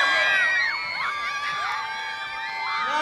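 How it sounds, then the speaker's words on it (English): A large crowd at the Longines Hong Kong Masters show jumping grand prix cheers loudly, with high whoops and whistles rising over a continuous roar. "The crowd are going crazy here in Hong Kong."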